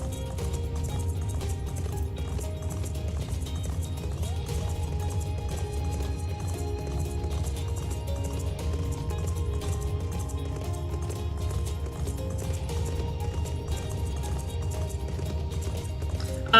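Horse mount in Final Fantasy XIV clip-clopping steadily across terrain, a continuous rhythmic patter of hooves over a bed of game music, with no pauses or voices.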